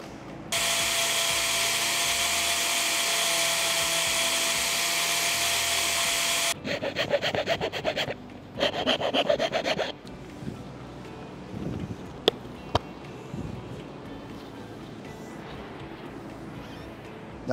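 Power tool cutting notches into a sugar scoop, a loud steady whine for several seconds, then bursts of rough chattering cuts, followed by quieter handling noises and a couple of sharp clicks.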